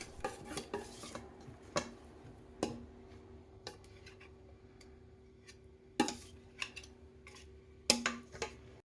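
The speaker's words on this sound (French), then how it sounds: "Placez ensuite votre pâte à gâteau dans un moule." Cake batter for a sugar-free yogurt cake goes into a baking mould with scattered soft clinks and scrapes of a utensil against the bowl and mould, a few sharper knocks standing out against quiet gaps.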